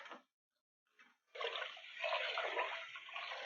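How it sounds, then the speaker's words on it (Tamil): Roasted rice being washed in water for hotel-style pongal: after a brief quiet start and a small splash, a steady close swishing and trickling of water runs to the end. "அந்த அரிசி வறுத்ததை நல்லா கொஞ்சம் ஆறந்தோம் ஒரு 3 தண்ணி ஊற்றி நல்லா கழுவி எடுத்துக்கிறேங்க"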